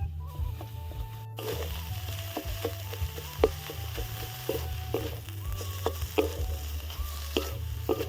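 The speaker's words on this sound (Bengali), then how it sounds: "ভালো করে আবার দু তিন মিনিট নাড়াচাড়া করে নেবো তো ভাজা ভাজা হয়ে গেলেই আমার হয়ে যাবে কুমড়ো বটা রেডি" Pumpkin leaf paste with prawns fries in a kadai, a continuous soft sizzle broken by repeated spatula clicks and scrapes as it is stirred, close and unaccompanied by talk.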